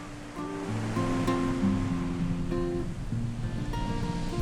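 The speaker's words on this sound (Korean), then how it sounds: "와, 파도 소리도 너무 좋고" Steady ocean surf rushes continuously along a shore in Ulsan, South Korea, with a faint melodic background tune layered over the constant wash of waves.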